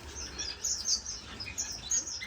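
Orange-cheeked waxbills and finches in a birdroom giving soft, high chirps and tweets in scattered bursts, fairly faint and close, over a low background hum.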